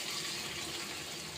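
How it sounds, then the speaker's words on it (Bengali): Hot water pours in a steady, hissing gush onto shrimp frying in a pan, constant and moderately faint throughout. "তো চিংড়িতে এখন গরম পানি দিয়ে দিব"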